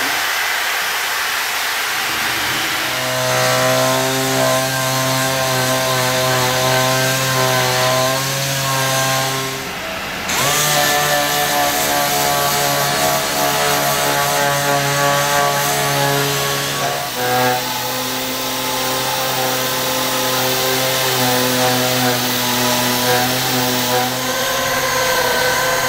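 A power sander works body filler on a Land Cruiser 80, its loud, steady motor whine running with a sharp pause midway and a brief dip later.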